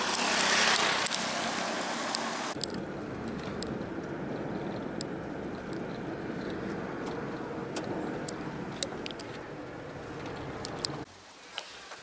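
A car travels along a road in rainy Meghalaya, India, its engine and tyre noise forming a steady rumble with faint clicks and rattles before it drops away near the end.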